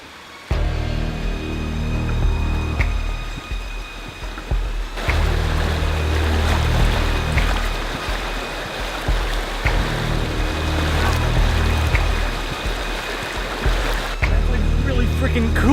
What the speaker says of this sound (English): this is the little creek behind the house.